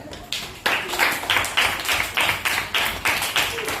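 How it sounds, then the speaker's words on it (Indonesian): A classroom of pupils claps in a rhythmic pattern of sharp, evenly spaced group claps, about eight distinct beats close by, with little talk. "Tepuk tangan"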